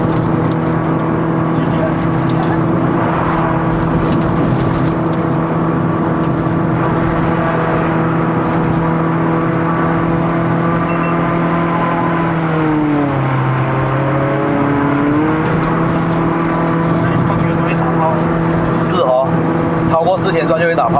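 A modified Proton Persona 1.6L CVT with an aftermarket exhaust revs loudly and continuously, its close, steady drone briefly dropping in pitch partway through before climbing back.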